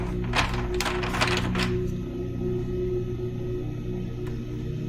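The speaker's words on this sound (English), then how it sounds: "let's shuffle the cards" Tarot cards riffle-shuffled in a quick burst of crisp flutters near the start, then settling into a quiet background hum.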